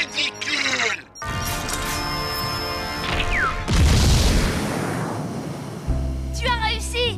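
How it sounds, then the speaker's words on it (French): Cartoon explosion blowing up the robot Proto-Boy in a Robotboy episode, a loud booming blast with crashing debris that rumbles and fades. Background music and character voices run around it. "Tu as fait exploser Proto-Boy!"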